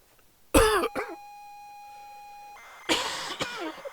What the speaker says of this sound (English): I'm sniffling, I'm coughing, I'm sneezing.